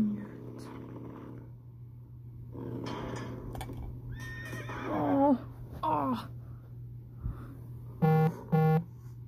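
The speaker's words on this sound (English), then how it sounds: "Giddy up, Trink. Giddy up" Horses neigh and whinny nearby in a series of shrill, wavering calls that grow louder toward the end, over a steady low hum, with faint other sounds early on.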